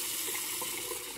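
Water running steadily from a tap, added to a Rex Ambassador shaving mix to build a thicker lather, heard as a close, continuous wash with no voices.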